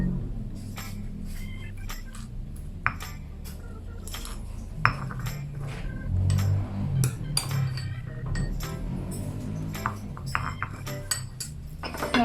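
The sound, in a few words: pounding shrimp paste and chillies in a mortar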